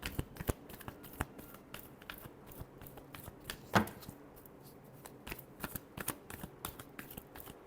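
Tarot cards shuffle in quick, crisp riffle bursts and soft flicks, close and fairly quiet, with no voice over them.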